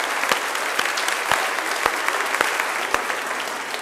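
Applause from a church congregation at a Sunday mass, a steady dense clapping that fills the space and carries on evenly throughout without pause.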